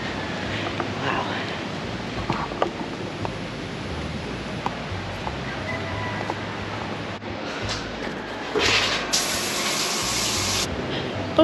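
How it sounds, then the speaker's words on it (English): Steady hiss of a shower's running water spraying continuously, close and even, with a brief brighter surge near the end, at a beach in the Philippines. "I'm gonna go up and have a shower."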